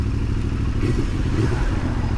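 Motorcycle cruising on Melbourne roads, a steady low engine drone mixed with heavy wind rumble, loud and continuous with no clear revving changes, no voices.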